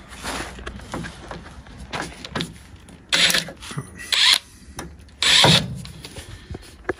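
A power tool cuts a car floor panel and chassis rail in a workshop, three loud harsh bursts of cutting separated by pauses with clanks and handling noise between.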